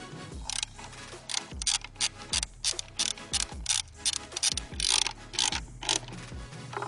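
Frame slider bolts on a 2021 Aprilia Tuono V4 Factory are tightened with an 8mm hex tool, giving short bursts of rapid ratcheting clicks, close and fairly quiet, repeated with brief pauses.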